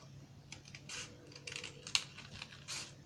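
Scissors snip straight through paper while a pineapple fold-over bookmark is being made, giving a few short, crisp cuts and rustles, close and fairly quiet.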